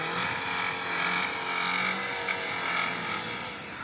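A car with winter tyres climbs a steep snowy road in Tbilisi through wet, heavy snow, its engine droning steadily and straining for the whole stretch, with tyres churning and a faint rise in revs near the end.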